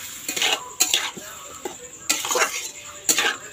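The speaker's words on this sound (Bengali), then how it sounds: "চিকেনটা দিয়ে এবার কষাচ্ছি" Chicken being stir-fried (kosha) in a pan, with a spatula scraping and clinking against metal in irregular bursts over a faint sizzle, close by.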